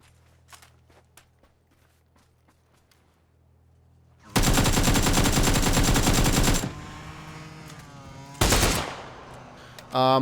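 PUBG gunfire from an SLR and an AKM: faint scattered footsteps and clicks, then a sustained loud burst of automatic fire lasting about two seconds, a quieter pause, another short burst and a final shot at the end.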